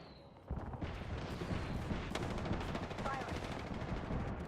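Rapid automatic gunfire from a battle in the video game Apex Legends, sustained bursts over a dense mix of game effects, with voice callouts in the background.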